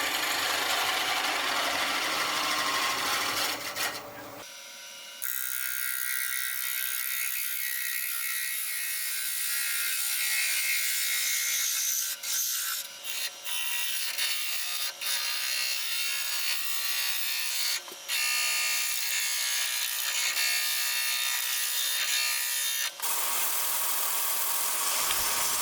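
A steady, scraping hiss of a cutting tool against a spinning burl on a lathe, hollowing it, runs continuously, shifting tone partway through with a few brief catches, no voices.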